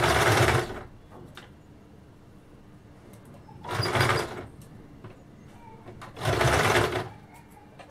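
A sewing machine stitching a designer blouse runs in three short, loud bursts separated by quiet pauses, heard up close with no one talking.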